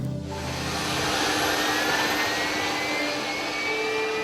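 A Canadian North Arctic airliner's engine roars steadily at close range, a loud broadband jet rush with a rising tonal whine throughout.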